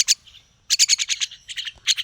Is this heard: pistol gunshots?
no